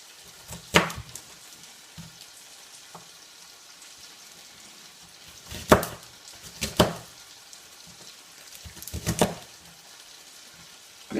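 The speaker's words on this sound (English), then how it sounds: "what I've got is I've got wedges of onion. Just going to chop" A knife chops through wedges of onion on a board in a few sharp, separate bursts of cutting with quiet pauses between them.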